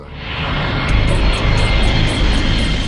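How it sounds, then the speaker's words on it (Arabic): Concorde supersonic airliner engines roar loud and steady, a dense broadband rush that swells slightly and holds without pause. "الكونكورد هي طائرة ليس لها مثيل، فخمة ورائعة وقبل كل شيء سريعة جدا"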